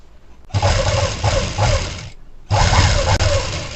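A sewing machine stitches a blouse seam in two bursts of motor whir, about one and a half seconds each, with a short pause between, heard close and fairly loud.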